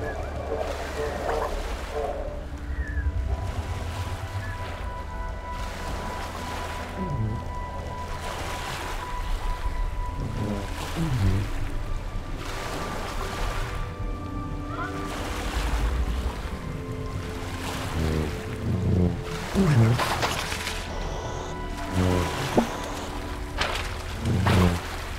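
Continuous water ambience of waves and surf in the video game The Eternal Cylinder, a steady rolling wash with scattered splashes and low rumble, with a voice talking over it at times.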